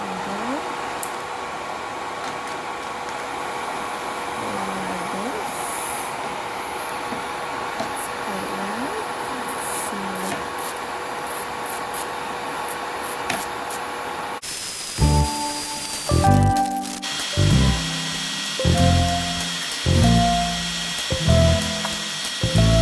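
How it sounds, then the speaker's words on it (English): A dust collector fan at a nail-sanding station switches on partway through, cutting in with a loud, steady whirring roar. Pulsing bursts of a sanding drill sound over it, after a quieter stretch of drill whine. "I'm going to turn the fan on. And it's going to be noisy."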